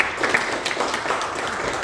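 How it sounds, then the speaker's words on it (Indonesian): A short burst of group applause in a classroom, many hands clapping together at a steady level, heard from within the room. "Tepuk tangan."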